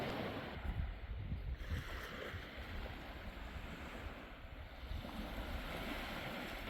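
Calm sea waves on a quiet beach on Koh Yao Yai, Thailand, make a soft, continuous wash with light wind noise, faint and steady with no talking.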